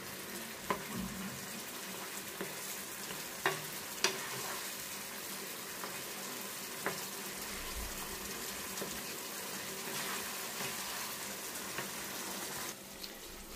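Paneer cubes cooking in a creamy milk-based gravy, a low continuous bubbling sizzle with occasional spoon taps and scrapes against the pan, fairly faint and even throughout.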